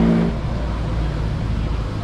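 Honda Beat 110 scooter engine idling low while the idle screw is adjusted, a steady close rumbling drone with a brief voice at the start.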